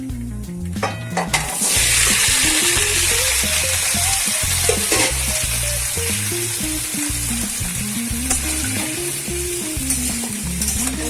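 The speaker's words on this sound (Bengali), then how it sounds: "ফোড়নটা একটু ভাজা ভাজা হয়ে গেলে সবজিগুলো আমি দিয়ে নুন, হলুদ, মিষ্টি দিয়ে নাড়াচাড়া করে নেবো।" Mixed vegetables with panch phoron fry in a wok, a constant loud sizzle under rhythmic stirring and scraping from a metal spatula, close and steady without any voices.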